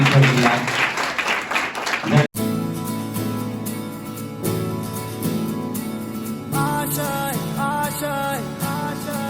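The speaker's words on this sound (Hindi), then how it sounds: "एक बार जोरदार तालियों से सभी" At a garment distribution programme in a women's college, a crowd claps loudly for about two seconds before an abrupt cut to a sung song with music, which carries on for the rest.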